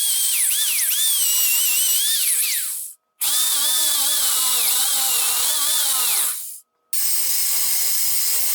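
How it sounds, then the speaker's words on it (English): Power drill boring holes through a tractor utility bed frame for tie-downs, two long loud whining runs with a pitch that rises and falls as the bit bites, a short pause between them, then a third burst starting near the end. "I drilled holes in the frames for the tie down."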